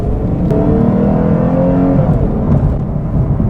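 A 2021 Lexus IS 350 F Sport accelerates at full throttle with a loud, continuous engine roar whose tone climbs steadily through the revs and then shifts, heard from inside the cabin with no speech.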